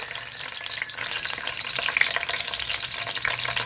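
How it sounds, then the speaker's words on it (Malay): Star anise, cinnamon and curry leaves crackle and sizzle steadily in hot oil for a keema dish, a close, continuous frying hiss with scattered pops and no talking. "Kita tunggu minyak lagi panas. Okey. Bunga lawang, kayu manis, daun kari"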